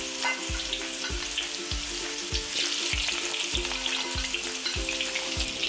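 Pumpkin pieces rubbed with a little salt fry in hot oil with a loud, steady sizzle and crackle, punctuated by regular low thumps roughly every half second, close up with no talk.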